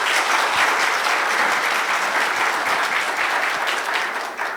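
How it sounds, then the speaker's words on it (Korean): A symposium audience breaks into sustained, loud applause to welcome a computer science professor to the stage, the clapping holding steady before tapering off near the end. "교수님을 큰 박수로 모시도록 하겠습니다"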